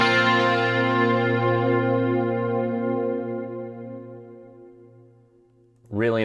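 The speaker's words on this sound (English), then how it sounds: "You can hear I've got this Manny delay from Waves, and I have some hall reverb from the Lexicon Hall as well." A sustained guitar chord rings out through a Waves Manny delay and a Lexicon hall reverb, decaying slowly over several seconds before a brief pitch-bending note cuts in at the end.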